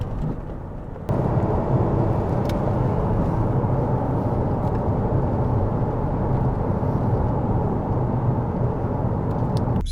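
A 2013 Ford Mustang V6 convertible cruises along small country roads, a steady low engine drone mixed with broad road and wind rush, constant and fairly loud after a softer first second.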